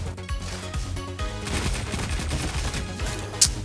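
Dense video-game gunfire from the Le Monarque sniper rifle, a steady barrage of shots and impacts with one sharp louder crack near the end, no voices.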